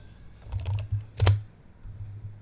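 Keys clatter on a computer keyboard while commands are entered on a Windows 11 PC, in a couple of quick close bursts with one sharper stroke near the middle and no talking.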